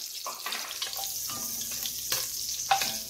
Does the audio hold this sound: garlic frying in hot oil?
yes